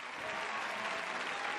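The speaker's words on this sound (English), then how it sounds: "let's give Cindy a round of applause for coming in" Brief burst of studio audience applause, a steady wash of clapping that stays even throughout.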